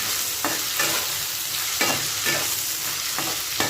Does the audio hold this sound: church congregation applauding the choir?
no